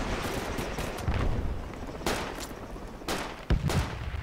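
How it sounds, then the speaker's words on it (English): Rapid gunfire is exchanged across a road in a foggy video-game battle near a bridge, with bursts of automatic shots and sharper individual cracks over a dense, steady rumble of distant firing, and no talking. "We're like shooting across the road from each other here."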